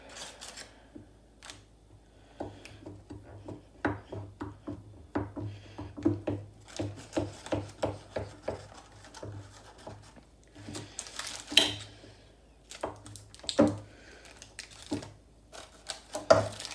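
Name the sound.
knife cutting a chocolate chip oatmeal protein bar slab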